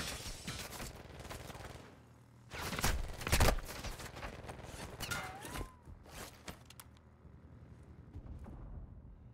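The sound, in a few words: gunfire in Call of Duty DMZ video game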